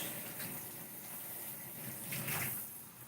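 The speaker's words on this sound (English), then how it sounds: "And then rinse my sponge." Tap water runs steadily into a kitchen sink as a sponge is rinsed during dishwashing, a soft continuous stream with a brief louder gush toward the end.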